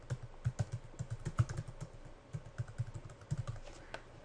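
Rapid keystrokes on a computer keyboard as a domain name is typed in, close and clear, with irregular bursts of clicks and brief pauses over roughly four seconds.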